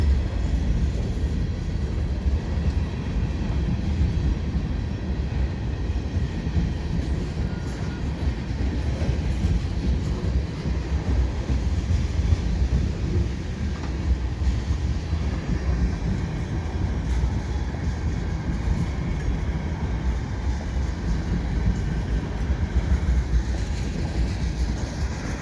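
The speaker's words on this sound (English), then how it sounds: "Train's speeding up, so it's definitely not going to stop and do switching or back up." A CN freight train crossing the Lachine Canal bridge approach in winter, speeding up as it heads west: a loud, steady, continuous rumble of rolling cars and wheels that runs unbroken throughout.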